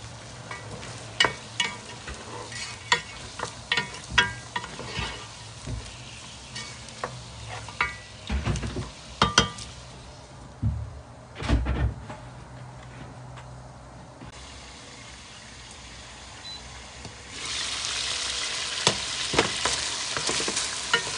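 Meat frying and being stirred in olive oil for Moroccan harira: a steady close sizzle with repeated clatters and scrapes of stirring, then the sizzle swelling louder near the end.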